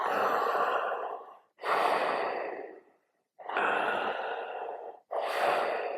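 Slow controlled breathing, in through the mouth and out through the nose, four long breath sounds close to the ear separated by short silent pauses.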